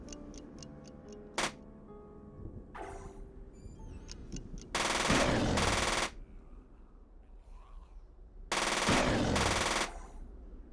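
Uzi submachine gun firing full-auto in the video game UFO: Aftermath: two loud, sustained bursts of rapid fire, each about a second or more long, with a few sharp clicks and ticks before them.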